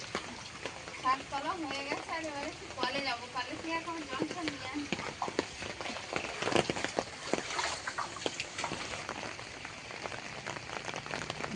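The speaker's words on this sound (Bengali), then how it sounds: "ঝমঝমিয়ে বৃষ্টি হওয়ার পরে এখন একটু গুঁড়ি গুঁড়ি বৃষ্টি পড়ছে" A light drizzle of rain falls outdoors at night after a heavy downpour, making a soft pattering with scattered drips. A voice talks over the first part.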